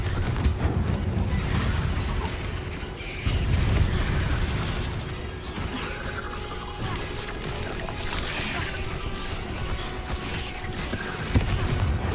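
A Confringo fire spell blasts in Hogwarts Legacy gameplay, with deep rumbling booms and crashing bursts over a constant low-heavy game soundscape, swelling around a few seconds in and again near the end.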